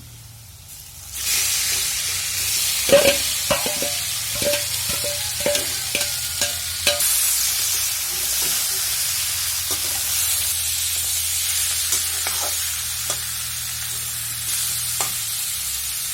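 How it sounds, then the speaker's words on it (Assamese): Local chicken meat frying in a pan with turmeric-tinted oil while being stirred, a steady sizzle under a run of spoon scrapes and clacks, close and fairly loud, with no talk. "মই ধুনীয়াকৈ লৰাই ল'লোঁ মাংসখিনি"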